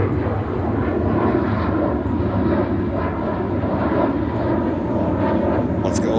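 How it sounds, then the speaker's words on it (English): Airbus A380 arriving at JFK Airport in New York, a steady broad engine roar that stays loud and constant throughout, heard from a distance. "the incoming aircraft A380"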